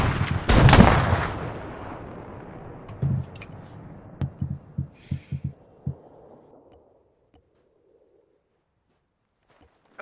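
Gunfire in the military shooter Arma 3: a loud close burst of shots at the start that trails off into a long echo, then a scattered string of single distant shots before the sound fades to near silence.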